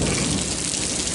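Heavy rain pours steadily with a deep thunder rumble underneath, a dense, loud wash of sound without any voices.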